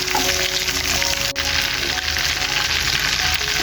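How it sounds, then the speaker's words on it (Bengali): Mustard paste fries in a pan over very low heat, giving a close, steady crackling sizzle that holds at an even level throughout with no voices. "এখন দিয়ে দেব সরিষা বাটা। 1 মিনিটের মতো একটু ভেজে নেব।"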